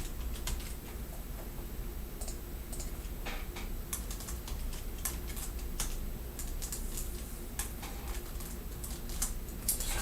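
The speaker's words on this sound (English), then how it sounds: "I started typing and then I realized" Computer keyboard typing in a quiet room, with rapid, irregular clicks of fairly soft keystrokes running continuously over a low background hum and no voices.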